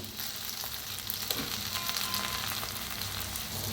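Okra sizzling in a pan with dry-roasted coriander powder for masala bhindi: a steady close crackle and hiss with a few sharper pops and light stirring, no voices.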